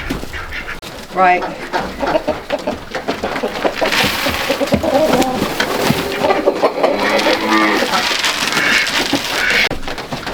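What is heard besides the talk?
chickens on a farm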